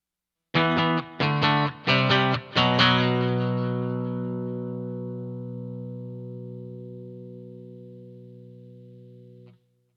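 Distorted electric guitar run through a Donner Noise Killer noise gate pedal: four short chugged chords, then a long ringing chord that sustains and fades for several seconds before the gate cuts it off abruptly near the end.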